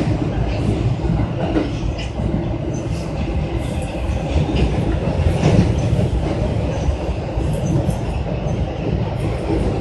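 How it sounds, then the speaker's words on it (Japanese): A Tokyo Metro Ginza Line subway train bound for Asakusa rumbles steadily along the tracks near Toranomon, loud and close, with clattering wheels and faint squeals throughout. "This train is bound for 浅草。"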